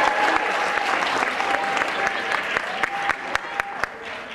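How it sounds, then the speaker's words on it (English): A pageant audience gives a big round of applause as male contestants return to the stage, steady clapping with a few sharp, close individual claps standing out and a faint voice underneath. "Let's welcome our contestants back on the stage with a huge round of applause."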